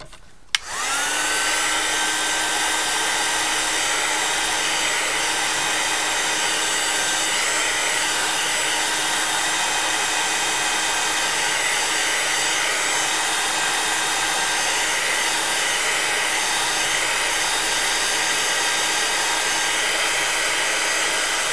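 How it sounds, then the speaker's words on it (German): A hair dryer blows in a long, steady, loud whoosh with a constant motor whine, held close while drying wet watercolor paper, with no talking over it. "Wenn ich an den Föhn komme."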